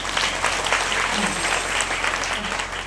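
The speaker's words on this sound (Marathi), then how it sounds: "वाजवा टाळ्या" An audience at a kirtan in Padhegaon claps steadily and loudly throughout, a dense wash of applause filling the space without pause.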